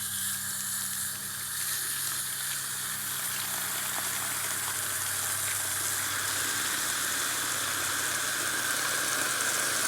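Water is poured onto a coco coir brick, giving a continuous soft hiss and trickle that holds steady and grows slightly louder toward the end.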